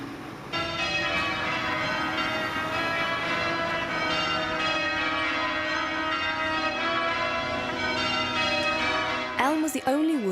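The church bells of St. Bartholomew the Great in London ring out in sustained, overlapping peals with a long shimmering resonance, loud and full, closing in a sharp swell near the end.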